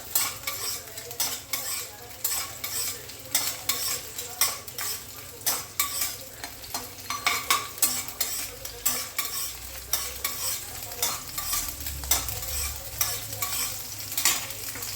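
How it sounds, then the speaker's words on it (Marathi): Peanuts and green chilli pieces sauté in ghee for sabudana khichadi, a steady close sizzle with repeated scraping and clinking strokes of a spoon against the pan. "तूप टाकलं आहे, थोडे शेंगदाणे टाकले, मिरचीचे तुकडे टाकले, थोडंसं परतून घेऊया."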